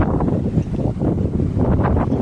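Strong wind buffets across an open farm field during tractor work, a loud, low, gusting rumble on the microphone that rises and falls without pause, with no talk.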